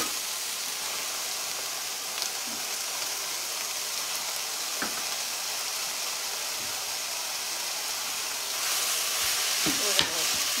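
Taco-seasoned food sizzles steadily in a hot stovetop skillet, a constant crackling hiss with occasional scraping stirs, growing a bit louder near the end.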